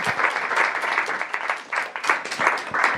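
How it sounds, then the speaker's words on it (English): An audience claps enthusiastically at a book launch, loud bursts of dense applause with uneven swells and dips, close to the listener and with no talking. "Let's give her a round of applause."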